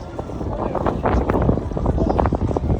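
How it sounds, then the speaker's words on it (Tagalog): A cool breeze rushes and buffets against the microphone at a mountain temple, a continuous low roar with faint voices in the background. "medyo malamig yung simoy ng hangin"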